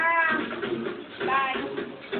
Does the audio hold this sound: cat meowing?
yes